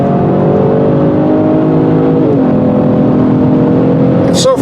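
A 2019 Genesis G70's twin-turbo V6 pulls hard and loud, its steady drone climbing in pitch with a brief gear shift midway, heard close from inside the car on the road.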